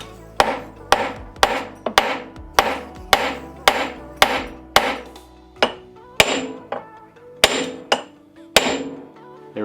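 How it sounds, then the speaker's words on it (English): Hammer striking the suspension ball joint and nut on a Ski-Doo XM snowmobile chassis, about fifteen loud, close metallic whacks in a steady rhythm with ringing decay after each blow. "I'm going to give it a couple of good whacks."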